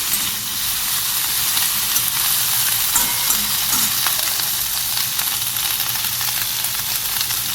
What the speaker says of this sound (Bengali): যেহেতু অল্প তেল, ঢ্যাঁড়সটা আগে একটুখানি ভাজা ভাজা হোক